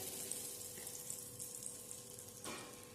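Ground lentil paste fries in a pan with a soft, steady sizzling hiss that swells briefly near the end. No one speaks.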